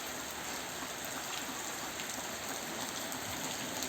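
Steady rain pours down during a tropical storm, a dense even hiss of falling water at constant loudness with no talking.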